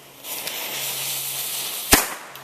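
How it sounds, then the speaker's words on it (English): Mini cannon fires outdoors: a fuse hisses steadily for over a second, then one sharp, loud bang follows, with a short rumbling tail and a faint pop afterwards. "go ahead and fire your cannon."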